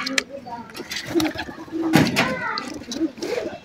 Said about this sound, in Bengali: দেখুন বন্ধুরা, আরও এক পেয়ার পাঙ্কি কবুতর